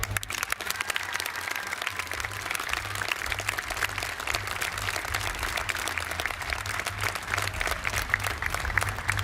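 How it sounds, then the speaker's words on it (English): Outdoor audience applause at a New York State Police Special Operations Response Team demonstration, sustained steady clapping from a sizeable crowd lasting the whole stretch, with a low engine-like hum underneath. "we think it's those guys that deserve the real round of applause today"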